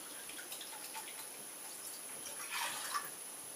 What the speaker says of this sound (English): We're going to go with 2 cups of water.